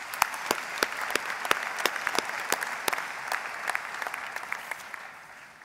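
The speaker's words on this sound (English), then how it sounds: "May we give the graduates a big round of applause." An audience at a Faculty of Theology graduation ceremony claps for the graduates, a steady patter of many hands in a hall that gradually thins and fades toward the end.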